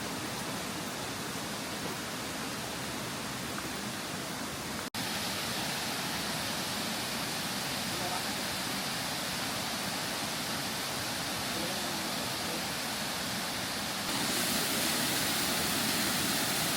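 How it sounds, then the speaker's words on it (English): A small waterfall along the Road to Hana on Maui roars steadily. It is a dense, continuous rush of falling water, close and loud throughout, with no voices. "This is also a mini waterfall."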